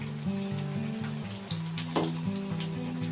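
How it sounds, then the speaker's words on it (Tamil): Banana flower vadai, crisp Tamil fritters, fry in hot oil with a soft, steady sizzle and bubbling, heard faintly under a low background hum with no talking. "நல்லா ப்ரௌன் கலரில் வர வரைக்கும் நம்ம வேக வச்சு எடுக்கணும்"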